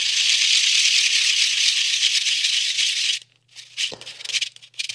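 A spinning 3D-printed plastic part on a modified digitenna antenna build rubs with a steady, loud rattling scrape for about three seconds, then stops and gives way to a few scattered, uneven scratches and knocks.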